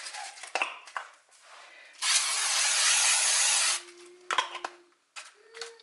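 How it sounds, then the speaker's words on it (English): Non-stick baking spray sprayed from an aerosol can into a paper-lined muffin pan, one steady loud hiss lasting almost two seconds, framed by light clinks and handling noises. "I'm going to spray a little of this non-stick baking spray."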